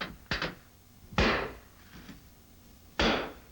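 Metal clinching tool crimping metal corner bead onto drywall, three sharp clanking strikes, the first a quick double hit, spaced apart in a quiet room.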